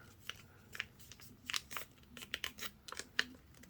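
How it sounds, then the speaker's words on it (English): Quiet crinkling and creasing of paper being pressed down while folding a paper airplane, a handful of short crisp bursts scattered over a few seconds with soft rustles between them. "And press the paper down very hard."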